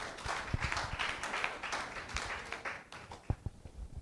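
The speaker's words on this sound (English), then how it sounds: "let us encourage them and welcome them once again with a round of applause" Audience applause welcoming a panel of distinguished guests at a forum, a steady patter of many hands clapping close by with a few sharper isolated claps, fading toward the end.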